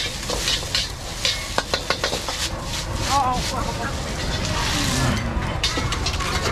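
Pad Thai with fresh shrimp and glass noodles is stir-fried at a busy street stall, sizzling continuously while a metal spatula clanks against the wok in quick bursts. Voices talk nearby.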